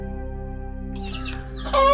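A chicken on a chicken farm calls close by, a brief sharp clucking burst rising at the end over a steady low background hum.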